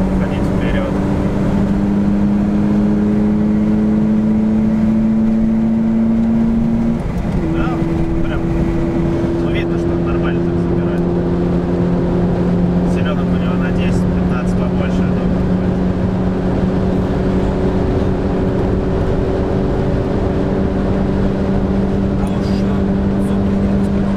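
A Mitsubishi Lancer engine accelerates hard in a drag race, a loud sustained droning roar with steady harmonic tones that climb slowly, dip briefly, then keep rising for the whole run, with faint voices underneath.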